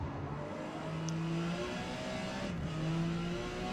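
A Porsche 956 race car in Forza Motorsport laps Grand Oak Raceway's National Circuit, its engine a steady, close droning whine that shifts pitch slightly through a corner.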